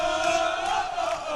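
A big crowd roars and cheers in a hockey rink just after a goal at a JV hockey game, a sustained loud wall of voices with no gaps.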